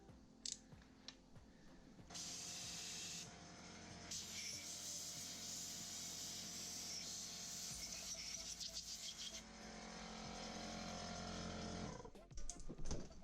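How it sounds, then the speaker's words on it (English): An air compressor nozzle hisses in long, steady blasts as it blows dirt off the top engine cover of a Suzuki LTZ250 ATV, close and fairly loud, with short pauses and some handling clatter around it. "I'm gonna grab my air compressor and get all the dirt off the top"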